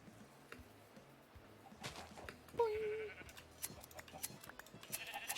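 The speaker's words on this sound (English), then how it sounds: "Let's go shear the sheep." Sheep bleat in a video game, one wavering bleat standing out amid soft game ambience and scattered clicks and footsteps, fairly quiet overall.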